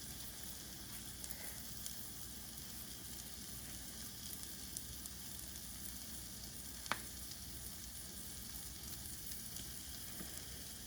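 Cajun-seasoned salmon fries steadily in a nonstick pan, giving a continuous, even sizzle throughout with one brief sharp tick partway through and no talking.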